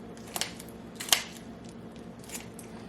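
Quiet snipping and crunching, a few short scissor cuts through raw chicken, spaced irregularly over a low steady background hum.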